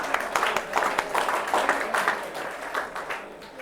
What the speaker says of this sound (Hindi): एक बार इन बच्चों के लिए जोरदार तालियां बजाओ